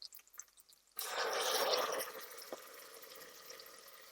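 Water draining from freshly washed rice in a home kitchen while ghee rice is being made, a sudden steady rushing pour that starts after a quiet moment and tapers to a softer trickle, with a brief splash partway through.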